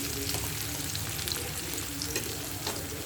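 Pointed gourd fries with ground spices in a pan, a dense continuous close sizzle with intermittent stirring scrapes and crackles.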